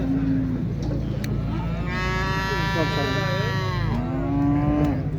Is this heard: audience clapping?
no